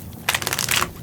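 A tarot deck being shuffled by hand: a dense, papery riffle of cards flicking together for just over half a second, fairly close and alone, with no talking.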